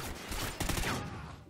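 Shotgun blasts in the video game Call of Duty: Ghosts, heard as a quick, dense burst of loud, cracking gunfire that fades out over about a second.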